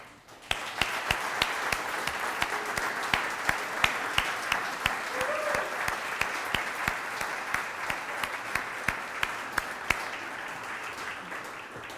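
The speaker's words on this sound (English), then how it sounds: "I'd like you to all join me in what I think will be only the first in many rounds of applause" A dinner audience at a college induction celebration applauds the inductees with steady, dense clapping that swells quickly and holds for about twelve seconds, with sharp individual claps standing out near the front.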